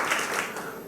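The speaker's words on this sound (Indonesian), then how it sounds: "Beri tepuk tangan dulu untuk Tuhan kita." Applause for God during a Sunday service at a GBI church in Batam, Indonesia: a short burst of congregation clapping, fairly distant and even, with no talk over it.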